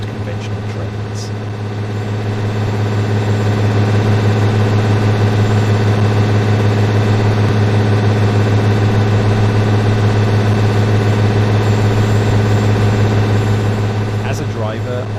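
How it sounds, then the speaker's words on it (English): Class 153 Super Sprinter diesel train engine in Train Sim World 5 on the Cardiff City Network, a steady low idling drone that swells over the first few seconds and then holds loud and constant. "you will be operating the Class 153 Super Sprinter and the slightly older Class 150 Sprinter"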